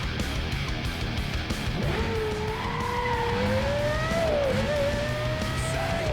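Car in Need for Speed Most Wanted (2005), the engine winding up in a long rising whine as it accelerates, shifting gears midway over steady road and tire noise, loud and continuous with no talking.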